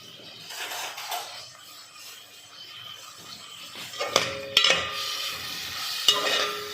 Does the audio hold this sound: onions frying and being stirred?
yes